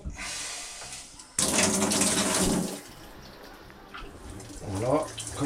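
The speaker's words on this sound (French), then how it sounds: "La douche ici, hop." Shower water runs in the compact washroom of a Beneteau Oceanis 423 sailboat, a steady hiss of spray starting abruptly and fading after a few seconds, with a voice speaking briefly near the end.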